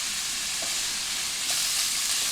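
Salmon for fish tacos fries in a hot pan, a steady broadband sizzle that holds level throughout with a slight lift near the end.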